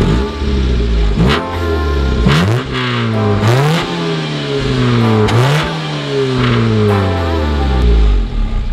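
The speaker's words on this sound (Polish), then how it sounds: "Dźwięk do lotu i dźwięk oczywiście wydechu." A car engine with a Z6 exhaust manifold and stock-diameter exhaust pipes revs repeatedly, rising and falling in pitch with a loud, throaty exhaust note, close and continuous.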